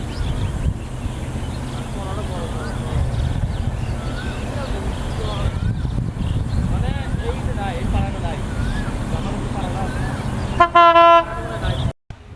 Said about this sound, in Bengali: আপনারা দেখুন ট্রেনটি দ্রুত বেগে কিভাবে আমাদের দিকে ছুটে আসছে।